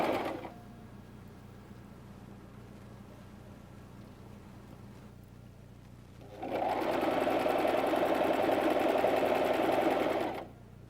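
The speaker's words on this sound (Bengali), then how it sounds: "আর আমরা অনেক দ্রুত সেলাই করব না, এরকমই একটু আস্তে আস্তে করে শিখে নেব।" A sewing machine slowly stitching fabric while a pair of trousers is sewn, a near, steady mechanical whirr that starts after a quiet stretch, runs for about four seconds and then stops.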